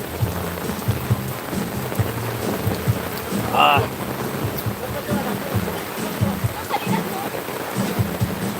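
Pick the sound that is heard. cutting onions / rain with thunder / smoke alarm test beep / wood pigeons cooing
rain with thunder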